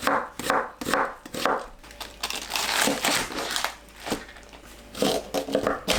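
A knife chops an onion into 0.5 cm slices on a board, giving steady crunchy cuts in an even, close rhythm with no voices.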